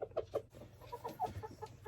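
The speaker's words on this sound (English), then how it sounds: "These are my meat chickens." Meat chickens cluck nearby in a rapid series of short, choppy calls over a low background hum, with no one talking.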